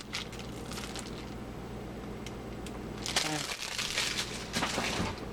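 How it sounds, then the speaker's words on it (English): Plastic wrapping crinkles and crackles as an individually wrapped American cheese slice is unwrapped in a home kitchen, with quiet rustling that grows louder and busier toward the end, under a person talking. "We unwrap the packaging because this is American cheese."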